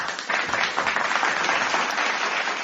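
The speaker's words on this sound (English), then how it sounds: "Let's clap for that" Clapping from a group, a dense steady patter of many hands that starts abruptly and carries on evenly at close range with no voices over it.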